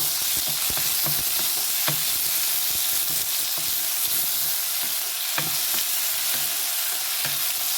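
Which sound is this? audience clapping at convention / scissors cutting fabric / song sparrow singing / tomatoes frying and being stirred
tomatoes frying and being stirred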